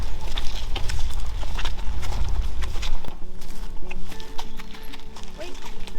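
A horse on a winter morning, with hooves clip-clopping in an irregular patter and snorts and a whinny, fairly close, while someone talks over the sounds.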